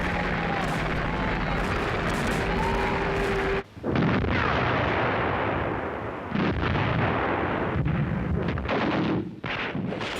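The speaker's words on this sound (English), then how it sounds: "Huge Soviet artillery barrages and tank assaults were shredding the German lines." A World War II Soviet artillery barrage on the Eastern Front booms as loud, dense rumbling and blasts of gunfire. It runs almost continuously, with brief drops in between, and no voice is heard.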